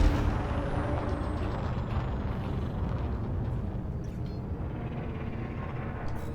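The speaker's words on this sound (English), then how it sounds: "Landing gear retracted." Spaceship landing gear retracting in Elite Dangerous, heard as a loud sustained hydraulic hiss and mechanical rumble that holds steady and then slowly fades, with a faint high whine sweeping downward near the start.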